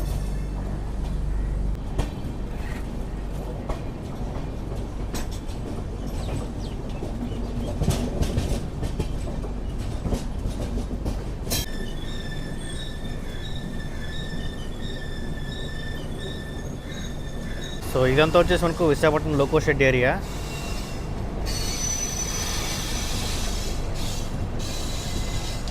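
A weekly Secunderabad to Shalimar AC express rolls along the rails near the Visakhapatnam loco shed, a steady rumble broken by a whistle-like tone and a brief louder clatter. Someone talks briefly.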